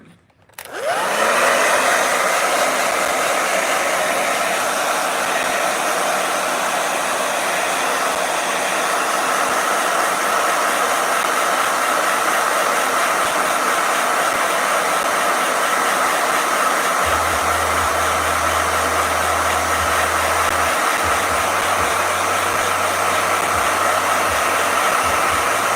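A blow dryer switches on and runs steadily for the whole stretch, a loud, constant whooshing hum with airy hiss, joined near the end by a low droning tone.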